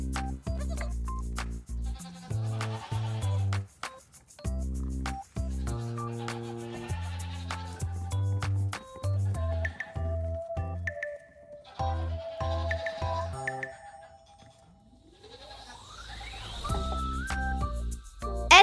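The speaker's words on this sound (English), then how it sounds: "G for goat." A goat bleats near the end of a children's alphabet song, its wavering call rising over plinking music that drops away just before it.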